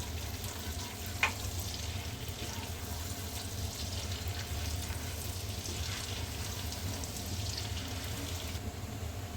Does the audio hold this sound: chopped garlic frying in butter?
yes